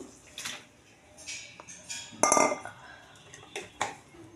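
Pieces of bottle gourd tumble into a cooking pan in a few clattering bursts, with metallic knocks and a brief louder clash midway, close by.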